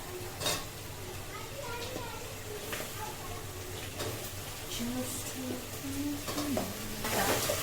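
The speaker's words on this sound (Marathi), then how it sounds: "Now it's time to tomato टाकायचा." Tomatoes go into a hot pan and sizzle softly, with occasional stirring scrapes and light clinks of utensils. The sounds stay faint beneath people talking nearby.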